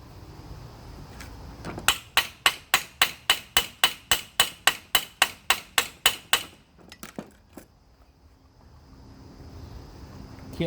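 A hammer taps steadily on a nut threaded onto a cylinder stud of an engine top end, about seventeen sharp, evenly spaced metallic strikes up close, followed by a few lighter knocks and quiet.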